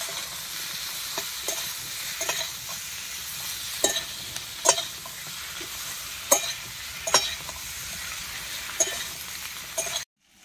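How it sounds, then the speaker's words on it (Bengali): Ridge gourd stir-frying with spices in a pan makes a steady close sizzle, punctuated by repeated metallic spatula clinks and scrapes at irregular intervals, with no speech, ending abruptly. "ঝিঙ্গেটিকে কষিয়ে নেব"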